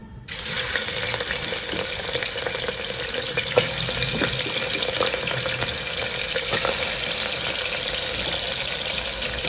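Meat hits hot white oil in a pressure cooker and fries with a loud, close, continuous sizzle that starts abruptly and holds steady, with light crackles and pops throughout.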